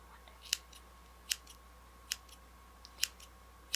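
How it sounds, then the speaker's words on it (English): Scissors cut a wig in five crisp, separate snips spaced about a second apart, close and clear against a quiet room. "One day I'll have good scissors."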